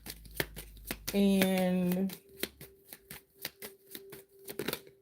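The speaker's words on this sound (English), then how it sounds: "I don't know why I'm shuffling these out." A deck of tarot cards is shuffled by hand in quick, crisp riffles and taps that keep going throughout. A voice briefly sounds one sustained word partway through.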